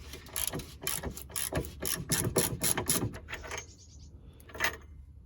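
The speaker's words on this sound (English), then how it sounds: "Now I can use a ratchet." A ratchet turns a 15mm socket on a suspension arm bush bolt of a Ford Focus hatchback, giving close, quick bursts of clicking pawl strokes, then a pause and a final short click.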